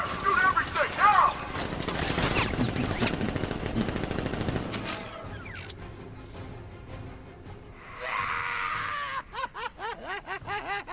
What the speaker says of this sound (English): Activate sentry guns on my mark. 3. Guards! Open fire! Shoot everything, now!